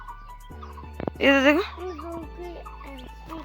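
A hen gives a short, sharp clucking cry nearby in a home, set between calm adult speech addressed to small children.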